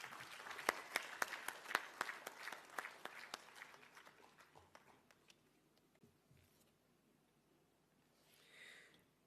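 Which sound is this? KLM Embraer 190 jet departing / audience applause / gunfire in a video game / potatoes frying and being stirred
audience applause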